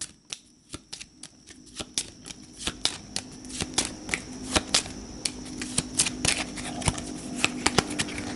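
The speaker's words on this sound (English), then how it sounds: "So we'll give this a quick shuffle." A deck of cards for the board game Astro Knights Eternity is shuffled close up, giving rapid crisp riffling and snapping clicks that build over several seconds, with no talk.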